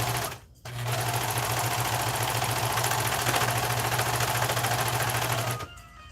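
A serger overlock machine runs in one continuous, fast whirring burst as it stitches denim and flannel, close by, starting and stopping with short pauses at each end.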